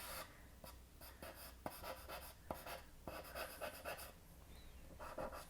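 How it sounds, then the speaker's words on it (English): Charcoal pencil working darks into a raven drawing on paper, giving steady scratchy strokes in quick bursts with small taps, close and fairly quiet throughout. "then I'll take my charcoal pencil and go back in and put in some of the"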